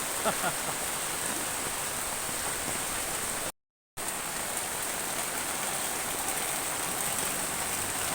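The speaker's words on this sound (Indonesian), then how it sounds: "karena hujan nggak kunjung reda, terpaksa saya harus pakai payung" Steady rain falls on a village in Petta, Sangihe Islands, a dense close patter on surfaces and an umbrella, continuous apart from a brief gap of silence, with a voice faintly present.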